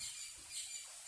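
Bird squawks sound in a video game set in a bamboo grove, several harsh calls over a steady wash of noisy ambience, with no talking.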